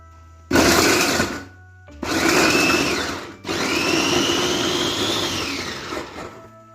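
An electric kitchen chopper runs in three close, loud motor bursts as it chops onions, each whine rising in pitch as the load lightens, with short pauses between bursts and no talking.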